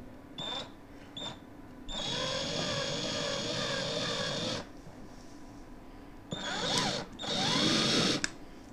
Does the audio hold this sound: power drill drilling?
yes